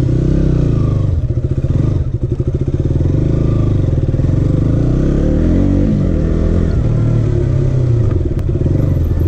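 A 2019 KTM Duke 200 ABS motorcycle engine runs close by, a throbbing idle that rises and falls through several revs, with a rattling, pulsing beat and no pauses.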